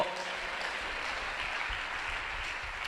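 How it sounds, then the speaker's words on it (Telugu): A church congregation clapping hands together, a dense, steady wash of applause from many people lasting about three seconds, fairly distant and even. "కొట్టు చప్పట్లో"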